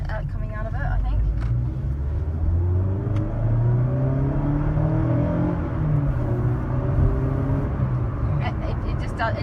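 A Mazda MX-5 RF's small 2-litre engine revs loudly nearby, its note climbing and falling as it accelerates hard through the gears.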